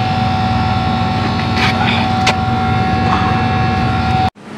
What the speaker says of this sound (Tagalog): Ayan na, bumibirit na yung compressor